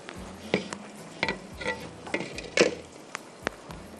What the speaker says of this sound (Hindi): अच्छी तरह दोनों को भूनें ताकि दोनों का कच्चापन ख़त्म हो जाए